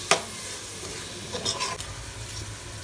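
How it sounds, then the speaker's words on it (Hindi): Spices and methi sizzle in a frying pan for aloo methi while being stirred. There is a soft continuous hiss with a sharp scrape at the start and a few scraping strokes midway. "अब हम इसे मिक्स कर देंगे"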